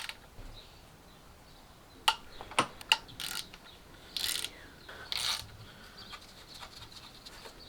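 Bolts around the Vanos housing on a BMW E46 330i are undone with a ratchet tool, giving a few sharp clicks and short bursts of ratcheting in a quiet workshop.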